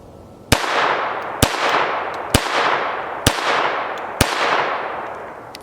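An FN 502 .22 LR pistol fires five loud, evenly spaced shots, each a sharp crack followed by a long ringing echo that fades before the next round.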